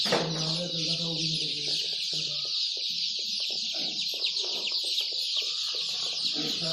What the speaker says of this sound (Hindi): अभी आपको हम डे ओल्ड चिक्स भी दिखाते हैं